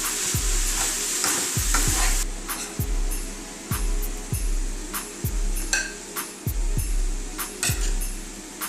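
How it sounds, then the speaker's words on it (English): Seasoned ground turkey being stirred into a sizzling cabbage mixture in a pan, a spatula scraping in a steady rhythm of repeated strokes over a constant frying hiss, loud and close. "is to put the ground turkey that we seasoned so well into this mixture"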